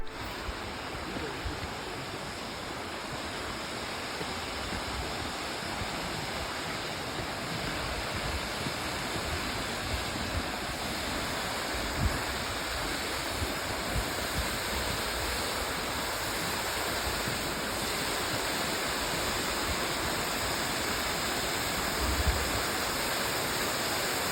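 Waterfall in Slovenia pouring into a green pool below, heard as a steady, dense broadband roar of falling water that stays constant throughout, close and loud with no voices.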